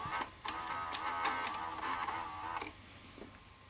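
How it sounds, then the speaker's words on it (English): A Sony SLV-R5UC S-VHS VCR loading and playing a tape, with quiet mechanical whirring and a series of small clicks and clunks from the transport, heard close and alone. "now I got a machine that I can just pop a tape in, press play"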